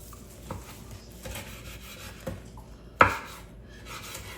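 A knife slices through cooked, somewhat tough brisket on a board, giving soft scraping strokes and a sharp knock of blade meeting wood, close and quiet.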